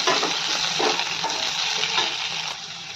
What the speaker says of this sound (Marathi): कट केलेली हिरवी मिरची पण लसणाबरोबर छान परतून घेऊयात